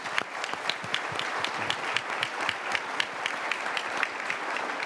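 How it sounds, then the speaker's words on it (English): An audience at a panel on veterans returning to the workforce, held at a Michigan veteran hiring summit, claps warmly in steady, dense applause that holds throughout without fading. "So I think we just take a second to give them a little bit of applause."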